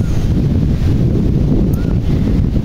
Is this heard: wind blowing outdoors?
yes